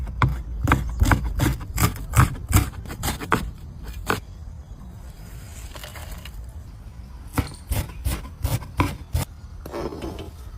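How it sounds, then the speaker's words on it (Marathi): Knife chopping green chillies finely on a board, a fast run of crisp taps, a pause with faint background, then another quick burst of close, sharp cuts. "पण आता मिरच्या बारीक कट करून घेऊ।"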